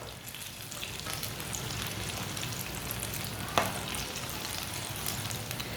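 Eggplant frying in a pan over lowered heat, a steady close crackling sizzle throughout, with one brief knock partway through and no voices.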